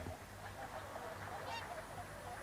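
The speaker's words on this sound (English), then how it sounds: "At the moment, there's lots of swans in front of the hide." Whooper swans calling at Martin Mere wetland, a flock gathered in front of a bird hide, giving steady overlapping honking calls at moderate distance against continuous outdoor background noise.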